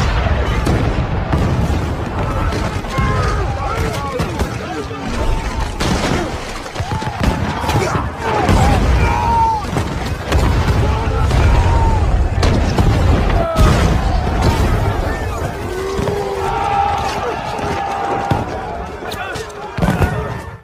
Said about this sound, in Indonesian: mereka langsung disambut dengan tembakan sekaligus gempuran bom